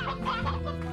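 An elder hen in the Slime Rancher video game gives a quick series of close, mid-loud clucks over steady game background sound.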